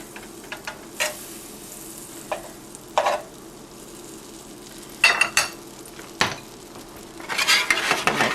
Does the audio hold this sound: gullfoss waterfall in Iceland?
no